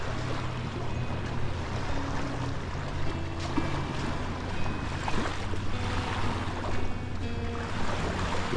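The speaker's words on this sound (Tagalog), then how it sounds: "Marinig natin yung boses ng alon ng tubig." Steady wash of lake waves on the shore at Scarborough Bluffs beach park in Toronto: continuous broadband rushing with a low droning hum beneath, constant and fairly close, with no voices.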